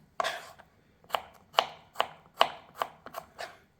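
Garlic is chopped with a knife on a board in a series of about eight crisp, close taps in an uneven rhythm, each with a short decay, alone and without talk.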